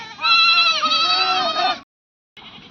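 Sheep bleat loudly and close by in a long wavering call, then a short second bleat begins after a brief silence.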